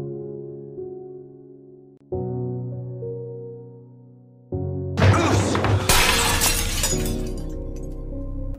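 A vase is knocked over and smashes, giving a loud burst of shattering glassy ceramic and scattering fragments that follows held music chords; the crash rings out over the music.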